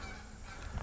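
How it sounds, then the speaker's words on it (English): Geese honk faintly in the distance as they fly over Woodlawn Cemetery in Detroit, Michigan, over a low, steady background rumble, with a slightly louder call near the end. "a bunch of geese flying around."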